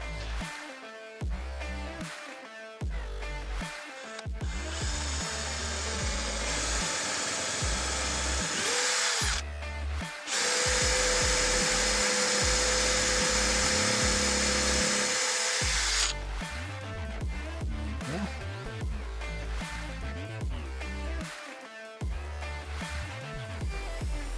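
A power drill drives screws into a wooden utility shed in several whirring bursts, one long steady run in the middle, with handling knocks and clatter between them.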